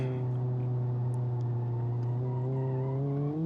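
The engine of an Ibishu Covet hatchback in the BeamNG.drive driving game hums steadily in a constant droning tone that rises slightly in pitch toward the end, losing power but still running.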